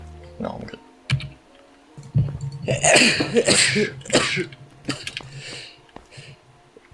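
A sneeze among players of the Unturned game, a sharp burst close to the microphone, followed by a short spoken reply and some clicking in the background.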